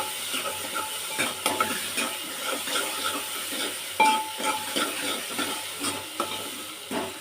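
Onions sauté in a pan, stirred with a utensil in repeated scraping strokes over a soft, continuous sizzle, with occasional light metallic clinks, close and fairly quiet, no talking.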